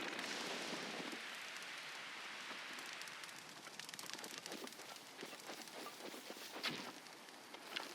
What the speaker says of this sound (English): Is it raining again?